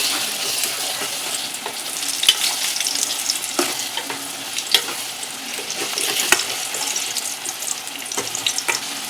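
Tomatoes for an egg and drumstick curry fry in a pan, sizzling steadily while a spoon stirs through them with scattered scrapes and clicks close by.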